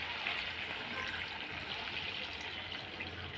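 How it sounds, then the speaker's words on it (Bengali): Water streams steadily into a pot of curry cooking on a home stove, a continuous close hiss and splash with no speech over it. "এখন আমি জল দিয়ে দেবো"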